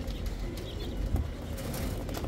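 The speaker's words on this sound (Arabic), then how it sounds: "سمان عراقي" Caged Iraqi quail at a busy bird market near Kadhimiya, Baghdad: soft coos and chirps with fluttering over a low crowd rumble, fairly close.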